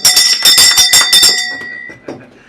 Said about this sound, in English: Do we do the bell for them?